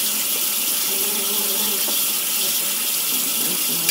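Water runs steadily from a tap while a makeup brush is lightly rinsed, a close, even splashing hiss throughout with no speech.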